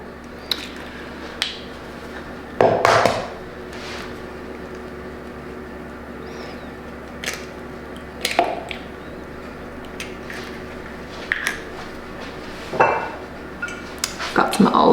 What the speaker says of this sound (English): We're gonna add our eggs, crack them on the counter so that we have less of a chance of finding shells in our batter.